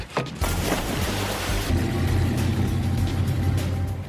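Engine of a stolen speedboat in an action film roars steadily from close by, a low throbbing drone carried under a heavy splash and boom at the start.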